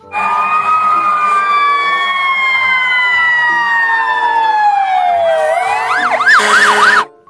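A loud, close electronic siren from a toy ambulance wails in long falling tones, then switches to a fast warbling yelp before cutting off.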